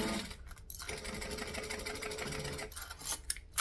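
A sewing machine stitching binding on a Phoebe garment, a close, steady mechanical whir running almost continuously, with brief stops near the start and end and no voices.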